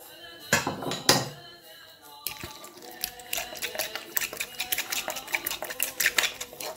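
Oat and zucchini cake batter being mixed by hand in a bowl, with a couple of sharp clanks at the start followed by a steady run of quick scraping and clinking strokes, close up, with faint talk in the background.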